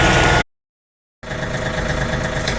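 A tractor engine running steadily at close range in the Netherlands, a loud constant drone that cuts out completely for under a second before resuming at the same level.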